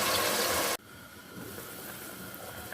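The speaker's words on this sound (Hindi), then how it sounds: "मैं इसमें शामिल करूँगी पानी" Water gushes into a cooking pot of fried chickpeas in a short, loud pour that cuts off abruptly, followed by quiet faint sizzling and bubbling.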